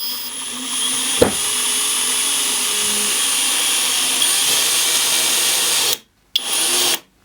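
A Skil XP DD1E3080 cordless drill drives 2.5x13 self-tapping screws, a steady close whine that runs for several seconds with a brief knock near the start, then cuts off and gives one short final burst.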